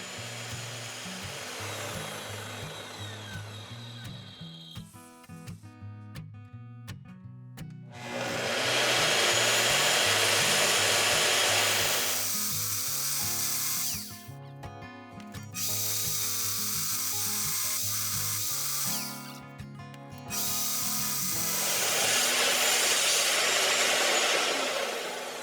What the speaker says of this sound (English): A circular saw for metal was used.